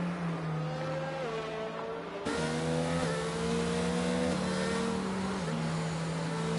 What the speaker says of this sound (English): Safety car goes round again.